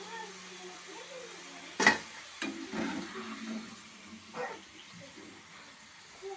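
A first batch of homemade french fries frying in oil: a quiet, steady sizzle with a few sharper pops and clatters, heard alone without talk.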